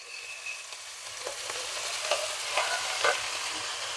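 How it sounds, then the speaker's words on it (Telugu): Amaranth leaves dropped into a hot tempering and stirred, a continuous loud sizzle with rhythmic scraping strokes of the spoon against the pan. "ముందుగా ఆకుకూర వేసుకోవాలండి."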